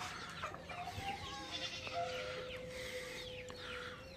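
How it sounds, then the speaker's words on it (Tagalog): Chickens on a small livestock farm cluck softly at a distance, with a faint steady whistle-like tone and some general farmyard background throughout. "Ito na po yung manok natin,"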